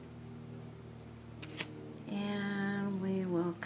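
Scissors cut through a rhinestone sheet in a couple of quick crisp snips, followed by soft rustling and handling sounds close up in a quiet room.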